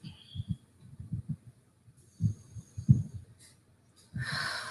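Several slow, audible breaths in and out, some rough and wheezy, with quiet pauses between them, ending in a louder rushing exhale.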